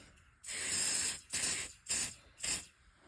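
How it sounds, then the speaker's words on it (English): A can of test smoke spray aimed at a smoke alarm, hissing in four close, loud bursts: one long blast followed by three shorter sprays in an uneven rhythm. "this is my smoky spray, so here we go"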